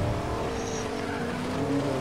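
Car in the video game Fortnite driving with a steady engine drone and tire skidding squeal, fairly loud and continuous throughout with no talk over it.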